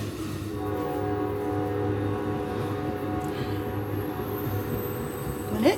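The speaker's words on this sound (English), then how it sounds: "The train!" A train rumbles steadily past nearby, loud and continuous with a droning hum and tonal ringing, and a squealing rise near the end; no talking over it.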